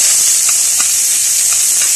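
Red onion frying in hot cooking oil, a steady bright hiss and sizzle throughout with a few faint pops, close and continuous, with no talking.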